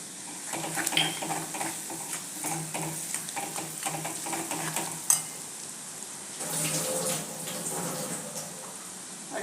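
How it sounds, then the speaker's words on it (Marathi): Besan roasting with spices in a pan for potato curry, a soft sizzle under repeated scraping and stirring strokes of a utensil, with a brief clink midway. "याच्यात व्यवस्थित बेसन भाजलं जातं"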